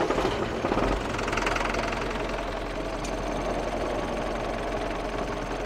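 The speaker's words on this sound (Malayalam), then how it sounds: "സ്റ്റാർട്ട് ചെയ്തിട്ട് എഞ്ചിൻ്റെ ഒരു സൗണ്ട് കേൾക്കാം." A Bharat Benz 1214 Timber Express truck engine starts with a brief louder burst, then settles into a steady, close diesel idle with a rhythmic knocking throb.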